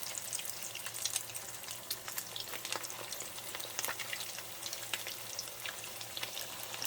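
Cilantro salmon croquettes frying in hot grease in a cast iron pan set just under medium heat, giving a steady, fairly quiet crackling sizzle with scattered sharp pops throughout.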